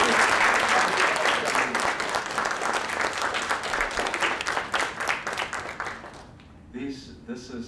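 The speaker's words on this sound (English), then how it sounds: "join me in a little bit of an applause for your teacher, our guru, our science guru" A standing lecture-hall audience gives loud, dense applause for their science teacher, steady clapping that tapers and stops near the end, followed by a brief voice.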